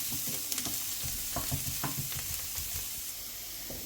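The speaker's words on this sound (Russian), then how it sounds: "И слегка пассируем чеснок с лучком." Garlic and onion sauté in a pan for a zucchini cream soup, giving a steady close sizzle broken by soft scraping and stirring clicks.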